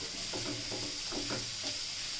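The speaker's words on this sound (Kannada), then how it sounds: "ಈರುಳ್ಳಿ ಹಾಕೊಂಡು ಸ್ವಲ್ಪ ಉರಿ ಜೋರಲ್ಲಿ ಇಟ್ಬಿಟ್ಟು ಫ್ರೈ ಮಾಡ್ಕೋಬೇಕು." Onion frying over a high flame in a pan, giving a steady close hiss of sizzle broken by a few soft stirring strokes, with no talking.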